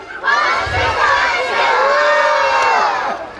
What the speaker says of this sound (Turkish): Veliler de bağırsın tamam mı? Anneler, babalar, amcalar, halalar, teyzeler herkes.